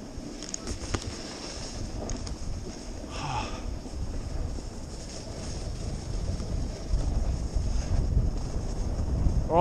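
Wind roars across an open microphone while riding a board outdoors, a steady broadband rush that swells louder toward the end, with no talk over it.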